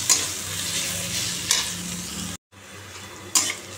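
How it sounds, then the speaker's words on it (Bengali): Bharali fish fry in a pan with a steady, loud sizzle, broken by a few sharp stirring scrapes and one brief cut to silence. "দেখো ভাড়ালি ভাজা হয়ে গেল"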